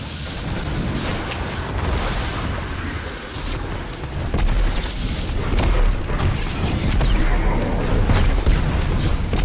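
Grenade blasts in a video game rumble through a heavy, continuous battle din, with booming bursts building toward the second half and faint voices mixed in.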